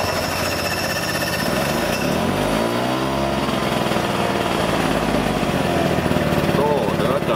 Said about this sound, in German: So, hört da, der Motor